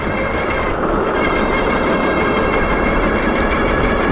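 A C3STROM Astro Pro electric bike at full throttle, a steady loud whir of motor and rolling tyres with constant wind rush, close up and unbroken throughout.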